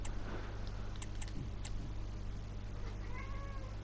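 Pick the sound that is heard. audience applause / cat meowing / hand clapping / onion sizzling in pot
cat meowing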